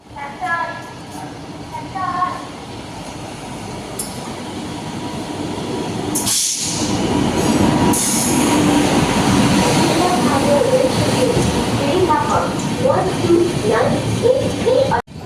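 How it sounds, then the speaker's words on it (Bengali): The Ajmer–Sealdah Express, train 12988, pulls into a station with a building rumble of wheels and carriages, brief metallic squeals and clanks, and people talking nearby on the platform. "আমাদের ট্রেন ঢুকছে 12988 আজমির শিয়ালদা এক্সপ্রেস"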